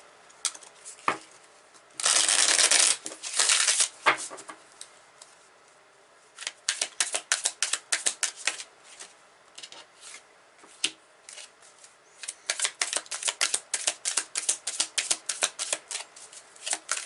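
Tarot cards being shuffled and pulled, giving a long dense riffle burst early on, then bursts of quick card flicks and snaps that continue in rapid clusters, close and crisp, with no talking.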